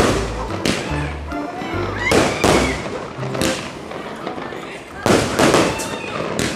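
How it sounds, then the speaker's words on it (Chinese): Fireworks set off during Lunar New Year celebrations crack and thump in repeated loud bursts, some close together and some spaced apart, with people's voices and exclamations heard between the blasts. "过年就是要放烟火"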